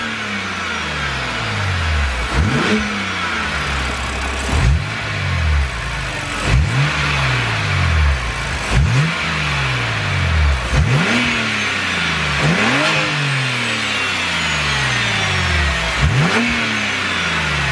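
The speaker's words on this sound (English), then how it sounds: "we get a better induction noise, which I'll let you be the judge of if you think it sounds better now" A BMW N52 inline-six fitted with a Mishimoto intake pipe revs up and drops back again and again, about eight loud, sweeping rises with strong induction roar over a steady idle.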